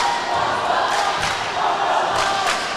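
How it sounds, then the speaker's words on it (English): A high school boys' basketball crowd in Florence cheers and roars during a tied game late in the second half, a steady wash of loud crowd noise with a couple of surging bursts. "All tied up, and the Florence crowd is hyping it up."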